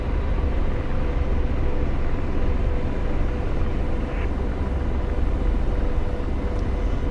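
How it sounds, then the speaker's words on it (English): An F/A-18 Hornet jet in a flight simulator game sits on a tiny airfield before takeoff. A steady, dense engine rumble and roar continues evenly throughout with no talk. "I kind of want to try to take off a Hornet from that little tiny airfield."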